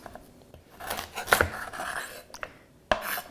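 A knife slices the ends off carrots on a cutting board, giving two sharp cuts about a second and a half apart, close and fairly loud over a quiet kitchen background with light scraping between them.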